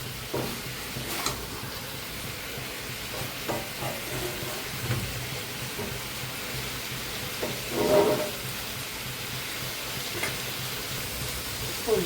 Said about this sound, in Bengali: মাছের সাথে কষিয়ে নিই।